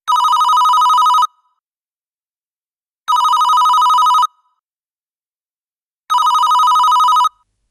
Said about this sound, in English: The phone rang 3 times before her mother's familiar voice answered, thick with sleep and confusion.